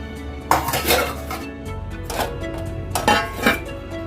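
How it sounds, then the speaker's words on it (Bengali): Freshly washed steel and metal dishes being put away at home, with several bursts of clanking and clinking pots and cutlery close by, no talk. "এই যে এখন আমি বাসন টাসনগুলো মেজে নিলাম এবার আমি জায়গা মতো রেখে দেবো"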